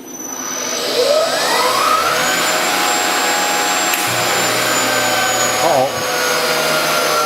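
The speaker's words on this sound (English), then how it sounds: "I turned my air blast on. I don't have no coolant in it, it's just air to keep the chips away" Compressed air blast running steadily on a coil winder machine during a dry cut, no coolant, a loud continuous hiss close by with a rising whine from the machine layered over it.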